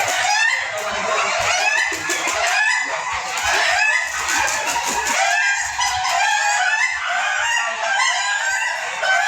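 Ayam ketawa, Indonesian laughing chickens, crow continuously at a national crowing contest in Purwokerto, many birds calling over one another in a dense, loud, overlapping chorus with clucks mixed in.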